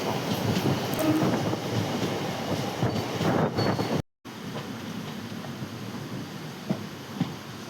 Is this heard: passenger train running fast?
yes